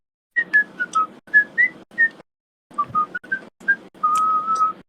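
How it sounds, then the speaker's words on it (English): Someone whistles a short, wandering tune in brief melodic phrases with small gaps, ending on one long held note, clear and fairly close. "So you guys hear some whistling across the way."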